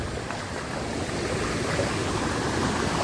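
A flooded stream on farmland rushes steadily as a continuous broadband wash of flowing water, with some wind. The sound is moderately loud and constant, with no talk over it.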